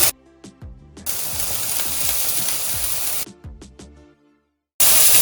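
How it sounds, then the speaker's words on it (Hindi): Carrots and other vegetables fry in butter in a pan, a loud hissing sizzle that starts abruptly, holds for a couple of seconds, cuts off, then bursts back near the end, with faint tonal clatter between. "अब मैं इसी पैन में थोड़ा सा बटर डाल के, तो मैं ये सब्जी जो है गाजर और ये थोड़ी सी फ्राई करूंगी"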